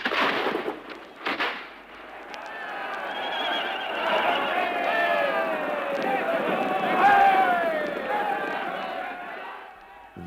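A horse in battle neighs in a long, loud, wavering whinny that rises and falls over several seconds, with hoof clatter and crowd-like commotion around it.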